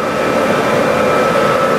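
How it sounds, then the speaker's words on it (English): A CNC machine's automatic vacuum pump runs at full power, giving a loud, steady, even whoosh and hum that holds unchanged throughout with no voices. "So I'm gonna get the vacuum pump turned on."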